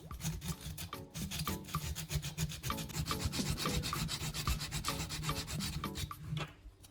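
Sandpaper sprayed with WD-40 is rubbed over a cordless drill battery's terminals, giving close, rhythmic scratchy rasping strokes repeated steadily, about two per second, with no talk.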